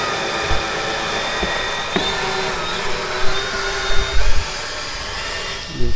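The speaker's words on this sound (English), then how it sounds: "using the blower, which is helping a lot" A blower fans the wood fire of a maple syrup evaporator with a loud, steady rushing roar, joined by occasional low thumps and crackles from the firebox.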